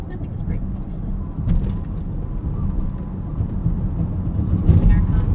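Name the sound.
2023 BMW X1 accelerating in Sport mode for merging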